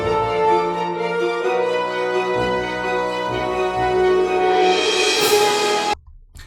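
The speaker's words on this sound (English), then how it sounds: "That's a full orchestra." Full orchestral music plays alone at steady volume, rich sustained strings and brass swelling toward a bright climax before stopping abruptly.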